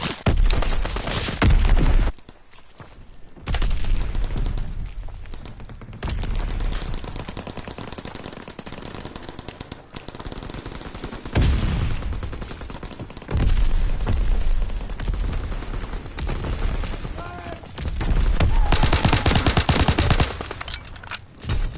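Rapid aircraft machine-gun fire and heavy impacts from a fighter strafing run in Call of Duty WWII, loud bursts repeating across the span with brief lulls between them, with no voices.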